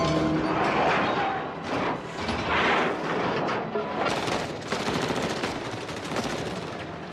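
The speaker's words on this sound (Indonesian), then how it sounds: "Mereka menghujani Sobok dengan ratusan peluru" Heavy gunfire fills a film scene as hundreds of bullets rain on a target, loud dense bursts of rapid shots and crashing impacts in waves, with no talk over it.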